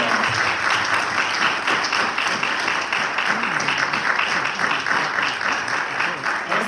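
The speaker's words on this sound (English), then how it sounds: "please stand and join me in giving them a big round of applause" Sustained audience applause at a Carver Federal Savings Bank Women of Influence event at the Schomburg Center, a dense, even wash of clapping from a crowd lasting several seconds.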